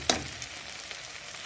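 Water poured into a hot pot of rice with vermicelli erupts into a loud, steady hiss of sizzling that starts with a sharp burst and continues close up without pause.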